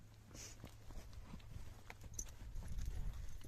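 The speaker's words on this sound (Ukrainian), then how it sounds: "Вже коні з усіх боків" Faint clip-clop of Polish coldblood horses' hooves on hard ground, a steady walking rhythm heard from some distance.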